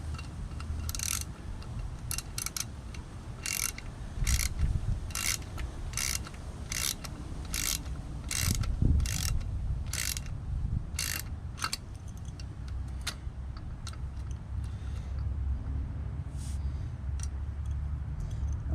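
A wrench turns a 5/16 bolt on a spring-loaded chain tensioner for a 49cc–80cc motorized bike, making rhythmic metallic clicks in short repeated strokes over a low background rumble, close up.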